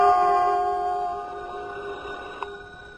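In an old-time detective radio drama, a telephone rings with a sustained metallic bell tone that slowly fades, followed by a small click near the end, alone with no talk.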